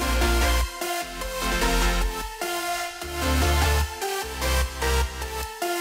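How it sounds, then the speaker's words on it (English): Full future bass music plays: sustained synth chords over a deep bass line, with a bright lead synth melody on top, loud and continuous. "So yeah, all together, the chords, the bass, and the lead sounds like this."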